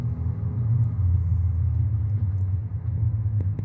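A Porsche 959 engine in Mario Kart drones as a low, steady rumble, loud and continuous throughout, with no talk.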